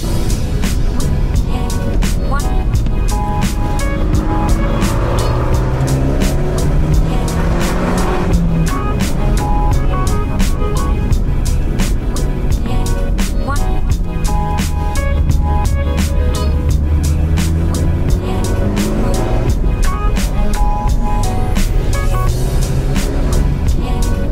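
An Abarth 124 GT two-seat roadster with a carbon hardtop driving through bends on asphalt, its engine a steady loud drone with shifting pitch throughout, continuous and close.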